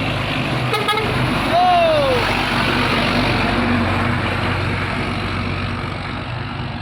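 A Mitsubishi Fuso tronton truck drives by loud and close on a road, its engine rumbling steadily with a horn toot and a brief rising whine early on, while someone talks over it.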